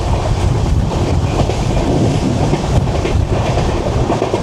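Steady rumble of a moving train approaching Jalandhar Cantt railway station in India, a sleeper-class coach on the Delhi–Amritsar line, with continuous low wheel and rail noise and faint clatter throughout, no talking.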